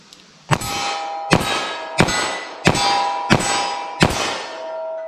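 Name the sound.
10mm Auto revolver firing Federal Power-Shok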